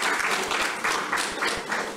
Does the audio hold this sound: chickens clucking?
no